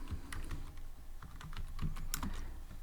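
Rapid, uneven keystrokes clatter on a computer keyboard, close and alone, with bursts of clicks and a brief pause between runs of typing.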